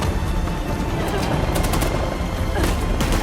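Gunfire in the game Uncharted: The Lost Legacy rattles in dense, continuous bursts like automatic weapons, with sharper volleys toward the end, loud and close, while a voice talks over it.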